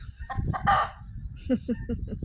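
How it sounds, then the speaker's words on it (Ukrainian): A chicken clucks and squawks close by in a short series of loud, rapid, agitated calls. "Курка куди вискочила, що кричати хоче"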